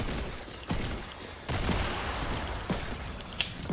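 Video game gunfire crackles in a few short bursts of sharp shots at an even pace, close and fairly loud, with no talking.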